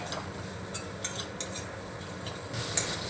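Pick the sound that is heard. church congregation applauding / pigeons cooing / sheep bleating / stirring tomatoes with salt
stirring tomatoes with salt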